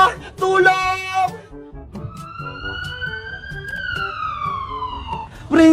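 Ambulance siren wails in a long, steady, gradually falling tone, loud and near, following frantic shouting voices calling for help.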